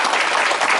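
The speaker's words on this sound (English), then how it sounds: "let's symbolically give them a round of applause" An audience at a meeting gives a round of applause, a loud, dense, continuous clapping over a brief moment.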